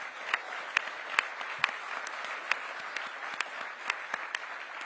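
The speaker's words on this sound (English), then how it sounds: "Give them a big round of applause." An audience in a large hall applauds for a Washington Commanders announcement about returning to DC, with steady, moderately loud clapping throughout and a few sharper claps standing out.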